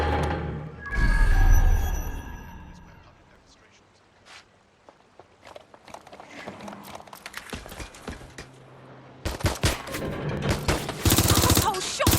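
Gunfire in the video game Watch Dogs Legion, a loud blast followed by scattered shots and footsteps, then a burst of rapid automatic fire near the end, with voices shouting in between.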